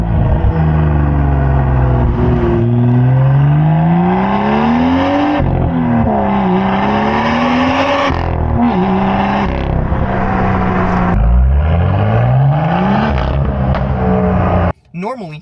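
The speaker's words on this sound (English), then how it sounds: "that exhaust system sounds amazing" BMW M2 Performance Edition exhaust, loud and close, revving up and down through several rising and falling sweeps, with brief dips between pulls as the engine note climbs and drops before cutting off near the end.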